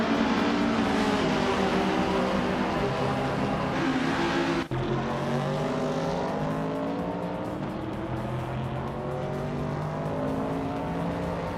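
Race cars overtaking one another in a race fill the air with a loud, continuous engine roar and shifting revs, broken for an instant by a sharp gear change, with no voices.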